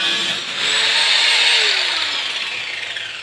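A grinder whines at a construction site where a door panel and door jamb are being installed, a loud, close, high-pitched hum that rises, holds steady and then slowly eases, with no talking over it.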